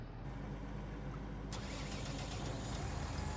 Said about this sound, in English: That's a different engine sound.